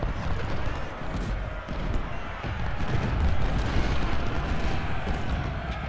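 Rumbling 24-pounder artillery fire in the Ultimate General: Civil War game, a dense continuous roar of overlapping cannon booms and battle noise, loud throughout.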